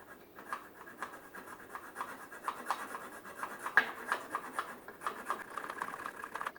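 A coarse hand file shaves the sides of an aluminum carburetor float post from a 1978 XS1100, making close, rapid rasping strokes in a steady back-and-forth rhythm.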